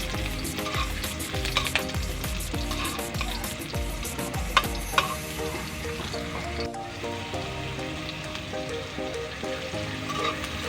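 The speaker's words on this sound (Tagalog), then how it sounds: "Andyan na yung nagisa ko na yung bawang sibuyas, small cubed chicken." Garlic, onion and small cubed chicken sauté in a little oil in a pan, with a steady close sizzle throughout, stirring scrapes, and a couple of sharp utensil clicks midway.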